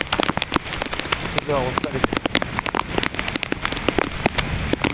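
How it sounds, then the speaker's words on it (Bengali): Heavy early-morning rain falls in Dhaka as a dense, continuous patter of drops striking hard surfaces nearby, while a voice briefly speaks. "প্রায় 8টা বাজে, এত সকালে বৃষ্টি হয়েছে ঢাকায়।"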